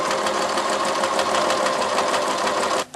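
A sewing machine runs steadily, stitching bias binding on a jacket in a continuous fast whir that stops abruptly at the end, close and fairly loud, with no voices.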